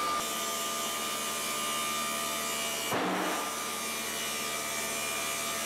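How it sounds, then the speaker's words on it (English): A CNC router cuts away excess granite in a granite workshop, giving a loud, continuous grinding whine with steady tonal hum and a brief burst of harsher noise partway through. "Here the router is just cutting away some of the excess granite."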